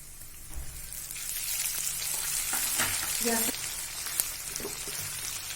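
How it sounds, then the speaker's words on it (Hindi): Golden onions and ginger-garlic paste fry in a pan for mutton methi, a moderate steady sizzle with occasional stirring clinks and scrapes close by. "कच्चापन जाने तक फ्राई करेंगे"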